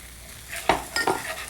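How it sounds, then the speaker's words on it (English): A short stir of coriander, salt and green peas in a pan: two or three quick scraping strokes of a utensil over a soft, steady sizzle, close and alone. "Stir all that in."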